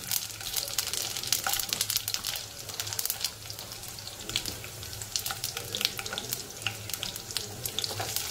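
Whole garlic, cumin and fennel seeds fry in hot oil for a chicken pepper fry, making a dense, continuous, close crackling sizzle scattered with sharp pops. No voice is heard.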